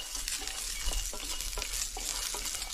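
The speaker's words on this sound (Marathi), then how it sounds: "आता मी शेंगदाणा टाकते म्हणजे शेंगदाणं पण भाजतील चांगलं" Peanuts roasting in a pan while a spoon stirs them, a steady soft sizzle with repeated scraping strokes at a regular rhythm, close and alone.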